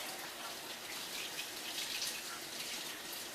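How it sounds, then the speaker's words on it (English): A kitchen tap runs steadily while hands are washed during cookie baking, giving a soft, even hiss of flowing water at low level with no talk. "Wash your hands."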